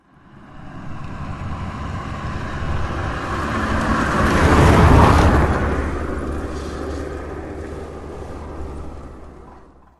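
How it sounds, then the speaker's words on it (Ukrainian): A vehicle approaches with rising engine roar, passes close, then fades away, a single broad whoosh swelling and receding. "Їдуть машини."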